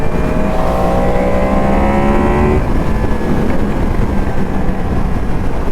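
A 2022 Yamaha MT-10 SP motorcycle engine roars loudly and close, its pitch climbing as it accelerates through the gears before settling into a steady, throaty drone.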